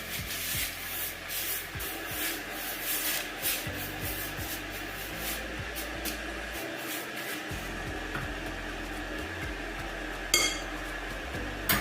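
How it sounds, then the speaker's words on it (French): Sugar, rice and tea being mixed and spread across an oven tray for smoking beef, giving a steady close scraping, rubbing rustle with occasional light clinks throughout. "j'ai donc mis le sucre, le riz et le thé. Je vais donc mélanger et bien étaler là."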